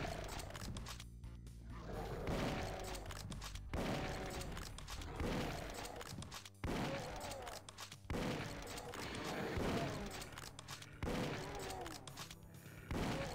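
Chaingunner fire in Doom 2's Ad Mortem map 08, Shadow over Silverspring: loud, dense bursts of rapid gunshots with booming impacts and monster roars, nearly continuous and crowded throughout.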